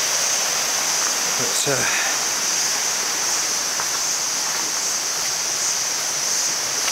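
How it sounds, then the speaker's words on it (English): A rainforest river flowing below a trail near Tiu Kelep Waterfall in Senaru, Lombok, a constant loud rushing hiss of water, with a brief voice and a few short sounds of movement near the start. "There's the river down there."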